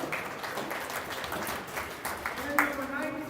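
Sustained crowd applause fills a youth girls' 12U ice hockey rink as finalists are honored, a steady dense patter of clapping throughout with a brief louder swell near the end.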